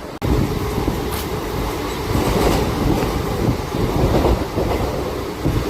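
A MEMU train rolls along the tracks with a loud, continuous rumble and a rhythmic clickety-clack of wheels over rail joints, with occasional higher metallic squeals, close and sustained with no talking.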